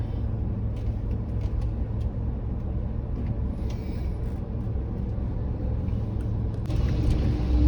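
Heavy trucks rumble past on a road near the Katarmal Sun Temple in Uttarakhand, a steady loud low engine drone filling the whole stretch and swelling slightly louder toward the end.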